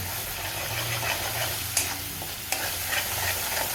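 Thick ground onion-tomato masala gravy sizzles in hot oil with cumin, a constant hiss broken by a few clinks and scrapes of a spoon stirring the pan.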